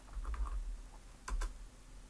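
A few computer keyboard keystrokes entering a command into a GDB debugger session, two sharp clicks close together near the end after softer tapping, close and fairly quiet with no talk.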